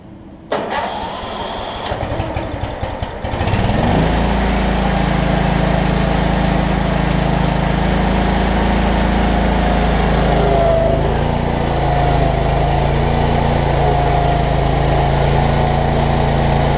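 A Cub Cadet 1320 riding mower's engine turns over with a few quick cranking pulses, catches and settles into a loud, steady running drone close by.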